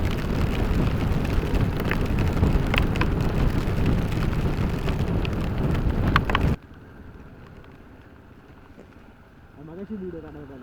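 Heavy rain pounds down during a drive on a Konkan road trip from Kankavli to Devgad, a dense roaring wash with wind buffeting that cuts off abruptly partway through, leaving a much quieter background with a voice.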